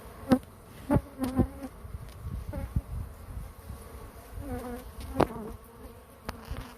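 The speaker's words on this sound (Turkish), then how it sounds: "Şöyle bakalım arı agresif bir arı." An aggressive honeybee buzzing close by at a beehive, with a low continuous hum and several sharper passes and knocks.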